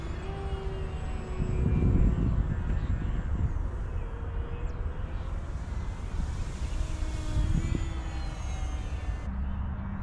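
An E-flite Sportix 1.1m radio-controlled model airplane engine whines at a distance, rising and falling as it passes, with wind buffeting the microphone in gusts.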